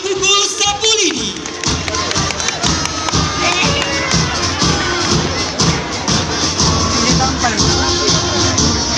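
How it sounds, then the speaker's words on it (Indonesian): A large outdoor crowd at a traditional sapu lidi whipping attraction in Mamala and Morella cheers, shouts and claps loudly and continuously, with voices calling over the applause. "Kita beri tepuk tangan yang meriah untuk peserta atraksi pukul sapu lidi"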